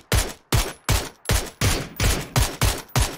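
Eight loud, evenly spaced gunshots in the video game PUBG, each a sharp crack with a short decaying tail, fired in a steady rhythm about two shots per second with no talking.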